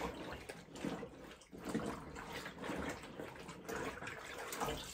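A tablecloth is swished and agitated by hand in a tub of cold water at a remote off-grid Alaska cabin, giving soft, uneven sloshing and splashing in quiet, repeated bursts.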